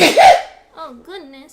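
A person's sneeze bursts out loud and close at the start, followed by a short exclamation from the same voice.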